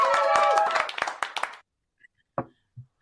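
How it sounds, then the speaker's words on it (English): A brief burst of clapping from a small group welcoming a woman on stage, dense at first and thinning to a few scattered claps within about a second and a half, then near silence. "let's give her a warm round of applause as she comes on stage"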